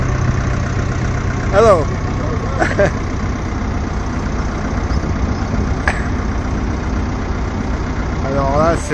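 An ice cream van idles with a low, steady engine rumble on a roadside in County Cork, Ireland, while a person talks briefly and birds chirp faintly over it.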